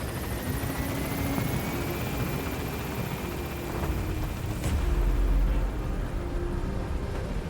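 A Pequod transport helicopter in Metal Gear Solid V lifts off and gains altitude, its steady rotor drone loud and continuous with a deep rumbling swell partway through, no voices present.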